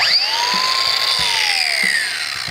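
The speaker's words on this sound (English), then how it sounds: "angle grinder" An angle grinder cuts into a steel-toe shoe at close range, giving a loud, steady high whine whose pitch slowly sags as the disc bites in, with faint knocks beneath.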